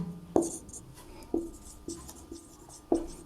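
Chalk or marker strokes tapping and scraping across a board while a maths derivation is written, with sharp irregular taps standing out over faint room noise and a low voice.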